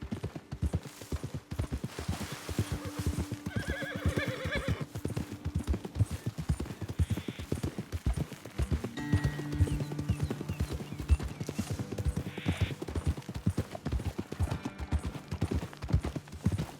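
Horse hooves clip-clop steadily through a Red Dead Redemption 2 ride, with a couple of horse whinnies and neighs rising over the continuous in-game ambience and faint distant gunfire.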